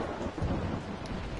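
Thunder rumbling through a heavy rainstorm in the video game Rise of the Tomb Raider, a steady, dense roar of rain and low rolling thunder at moderate volume with no voices.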